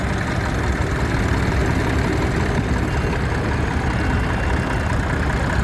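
A vintage antique tractor engine runs steadily at idle during a parade at the Carrington steam rally, a continuous low, throbbing rumble with faint knocking, loud and close throughout.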